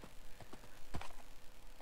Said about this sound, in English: Riding my horse through the forest.